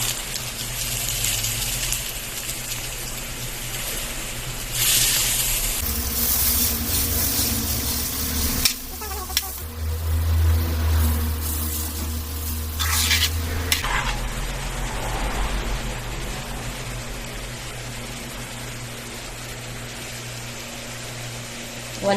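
Sweet potato (camote) frying in a pan while being mixed, a steady sizzle broken by scraping and stirring noises and a brief burst of harsher frying in the middle.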